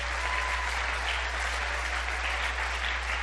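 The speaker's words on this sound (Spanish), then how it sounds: "Dele un fuerte aplauso al Señor." A church congregation claps steadily during a Spanish-language service, a continuous even wash of many hands at moderate distance with a constant low hum running underneath.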